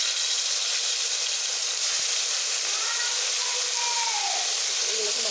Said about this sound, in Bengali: এগুলো এখন ভেজে নেব।